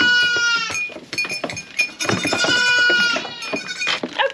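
Nigerian Dwarf dairy goats during milking, with several loud, wavering bleats close by, some overlapping, and short rustling and clattering noises between them.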